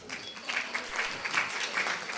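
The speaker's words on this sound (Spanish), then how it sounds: "Un aplauso para..." Brief, fairly soft round of audience applause at a talk on protofeminist poetry performance, scattered clapping lasting a couple of seconds.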